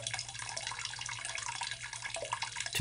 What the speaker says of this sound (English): as the hot water level drops in the 5-gallon bucket, the float valve floats down. That's going to open the valve and allow hot water